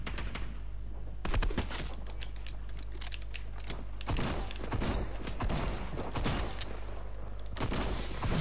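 Rapid game gunfire from a competitive shooter crackles in dense bursts, loud and close, with several sharp volleys separated by brief gaps over a steady low hum.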